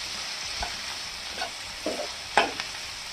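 Onion and tomato masala frying in a pan while being stirred, a soft steady sizzle broken by a few light scraping and clinking stirs.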